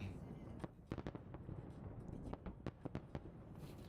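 A distant fireworks display crackles and pops in a rapid, irregular series of sharp bursts, faint and far off beneath a low background rumble.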